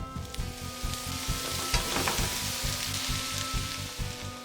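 Sliced radish and minced garlic sizzle steadily in a pan with perilla oil, a close, continuous frying hiss with soft stirring scrapes throughout.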